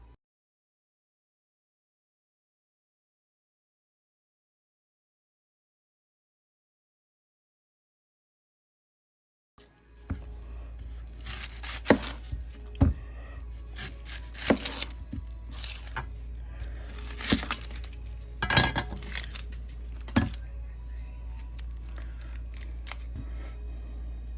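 A knife cutting mushrooms into quarters: silence for about ten seconds, then irregular sharp taps and chops against a board, close and fairly crisp.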